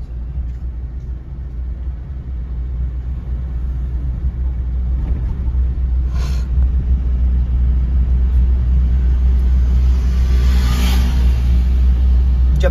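A car engine accelerating while driving at night, with a deep, steady rumble that swells gradually as speed builds, with brief faint clicks over the continuous in-cabin drone.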